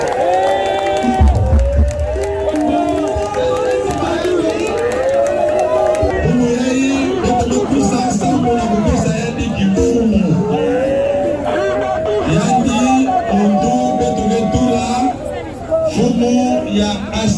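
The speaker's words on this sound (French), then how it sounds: "sous les applaudissements de la foule" Crowd at an ecological party's official launch event in Matadi cheering and applauding, a loud continuous mass of voices and clapping with babble, a reporter's voice running over it.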